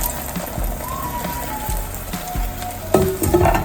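An egg fries in oil in a pan, giving a steady crackling sizzle with small pops and spits throughout and brief scraping near the end.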